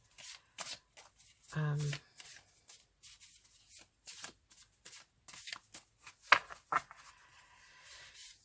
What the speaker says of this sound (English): Let's just shuffle them now, and we'll do the same again in a minute.